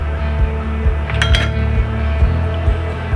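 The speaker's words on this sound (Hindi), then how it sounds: "सबसे पहले हम यहाँ पर एक कढ़ाई ले लेंगे।" A kadhai is handled on a stove, giving several sharp metallic clanks and clinks of pan and utensil against the burner over a low steady hum.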